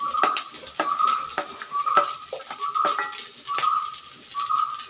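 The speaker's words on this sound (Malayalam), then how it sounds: "സവാള ഇട്ട് കൊടുക്കാം" Onion frying in a pan for a Kerala avarakka (broad bean) stir-fry, a steady close sizzle with repeated scraping stir strokes and a few clinks against the pan.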